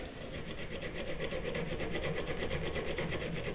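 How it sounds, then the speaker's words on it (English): A hacksaw rasps back and forth across metal to scratch a mark beside a Kona mountain bike's main pivot bearing, a steady rhythmic scraping heard up close and fairly loud throughout. "get something to mark it with, say a hacksaw. Just take a little."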